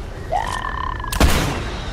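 A video game shootout, with a rising whine followed by a sudden loud boom-like gunshot burst that rings out briefly over steady game noise.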